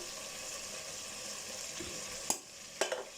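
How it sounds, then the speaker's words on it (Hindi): Ground spices, including cumin powder and salt, fry and get stirred in a pan while making chicken pulao, giving a steady soft sizzle with a couple of sharp clinks of a spoon near the end and no talking. "अब इन सब स्पाइस को अच्छे से मिक्स कर लेंगे और मसाले इसमें अच्छे से भुन जाएं"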